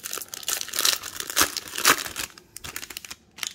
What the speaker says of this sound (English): let's rip open the last three packs